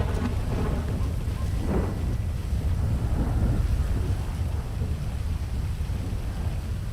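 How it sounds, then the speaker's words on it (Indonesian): Rain and thunder in the GTA V roleplay game world, a loud, steady wash of downpour with a low rumble swelling and rolling underneath, continuous throughout with no speech. "Anjing ada suara hujan dalamnya."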